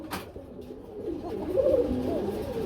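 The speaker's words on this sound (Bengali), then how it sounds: "খুব সুন্দর আরেক জোড়া কবুতর" Pigeons at a market stall selling pairs of birds, giving close, low, rolling coos that build through the second half, with a brief knock at the start and no talking.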